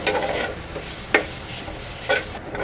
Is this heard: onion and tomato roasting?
yes